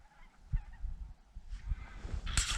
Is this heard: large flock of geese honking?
yes